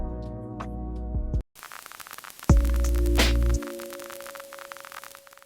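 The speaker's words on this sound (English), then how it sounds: "you can use this right here to add vinyl crackle." Dense vinyl-crackle effect from Ableton's stock audio effects, with popping clicks pattering over sustained synth tones, switching on after a brief gap and continuing steadily.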